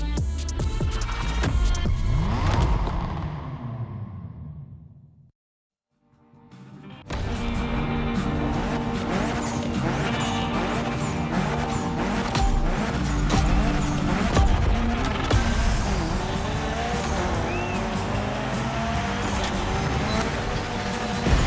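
A Mitsubishi Evo 9 in the video game The Crew Motorfest revs and drones loudly for a Gymkhana run, briefly cutting to near silence before the engine roar returns and holds steady at close range.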